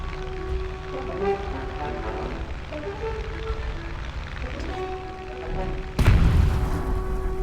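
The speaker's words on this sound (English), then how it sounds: "so you just dropped 2 bombs on that bridge" Bombs burst on a bridge in a video game, one heavy booming blast landing abruptly after a stretch of low rumbling game noise, then a sustained loud roar; no talking.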